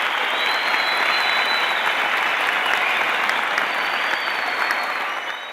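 Audience at a charity concert in Erbil clapping steadily to welcome a music group and a singer. The loud, dense applause holds evenly and eases off slightly at the end.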